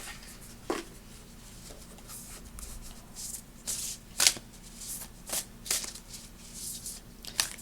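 A deck of oracle cards is shuffled by hand in a quiet room, giving a run of soft riffling and sliding bursts with short pauses between them, close and fairly faint, with no talking.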